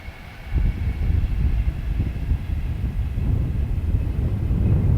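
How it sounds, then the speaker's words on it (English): A southbound Virgin Pendolino electric train passes through open Cheshire countryside, a steady low rumble and rush building slightly toward the end, with wind buffeting the microphone throughout. "And here comes the train. It's southbound. And it's a Virgin Pendolino pacing through the Cheshire countryside."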